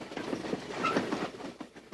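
BN freight train 110, with an extra locomotive added, rolls out of Spokane on its way toward the Rocky Mountains. A steady, close rumble of wheels and cars carries faint rhythmic clacks throughout, with no voices.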